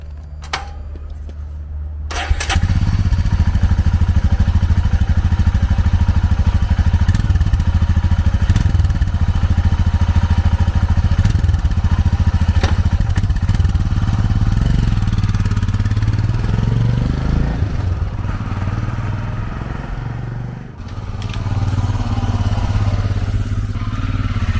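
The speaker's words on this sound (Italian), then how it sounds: "Himalayan 411 con scarico originale" Royal Enfield Himalayan 411 motorcycle engine with its original stock exhaust idling steadily up close, a deep continuous low rumble that starts abruptly after a brief quiet moment and holds throughout with slight dips.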